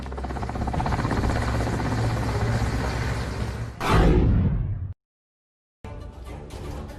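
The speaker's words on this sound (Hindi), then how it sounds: "फंसे हुए शख्स को हेलीकॉप्टर से बाहर निकाला गया" An air force rescue helicopter hovers over a swollen river during a flood rescue, its rotors making a steady, loud, thrumming buzz. The sound swells briefly, cuts to silence, then returns.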